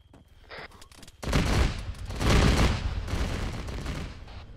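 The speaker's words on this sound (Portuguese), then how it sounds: "Já se ouvem tiros." Arma 3 gunfire in a co-op military mission: a loud burst of shots and rolling reports, sustained and dense, following quieter scattered clicks and movement.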